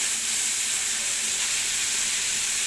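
Onions frying in a pan for a hotel-style potato curry produce a continuous, loud, hissing sizzle, steady and close with no talking.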